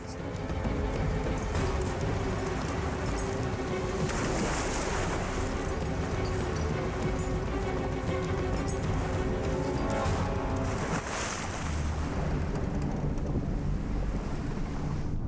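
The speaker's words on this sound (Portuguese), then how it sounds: "Em questão de segundos, o barco virou completamente." Loud, continuous rush of ocean waves and wind with heavy water turbulence around a capsizing boat, surging and churning throughout.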